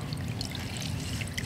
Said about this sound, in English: wring it out so it dries faster